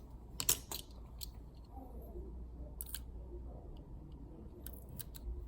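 Scissors cut tape about 1 to 1.2 cm wide while a paper airplane is being made. A few sharp, crisp snips come close by, spaced out over a quiet room hum with no talk.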